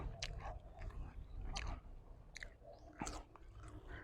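Someone eats rice outdoors in a rice field, with close, wet chewing and soft crunching bites repeating steadily over a quiet background.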